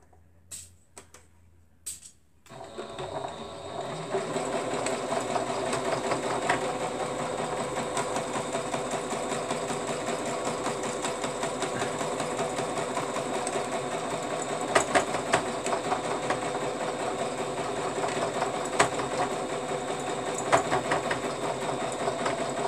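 A sewing machine stitches a back stitch in a fast continuous whirring rhythm, close and steady. A few clicks come first, then the motor starts and runs for about twenty seconds without talk.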